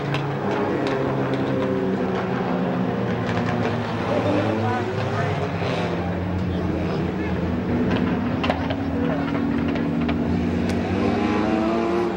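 Race cars at Midvale Speedway bunch up for a restart, their engines a loud, continuous roar with rising and falling pitch as the field accelerates, carrying on for the whole stretch.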